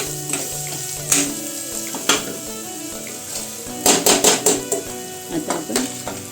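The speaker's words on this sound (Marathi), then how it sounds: "तेलात मसाला टाकलात ना तुम्ही की त्याला छान परतवून घ्यायचा" Malvani masala sizzling as it is sautéed in hot oil for a white peas curry, a steady fry hiss broken by clinks and scrapes of a spoon against the pan, with faint voice in the background.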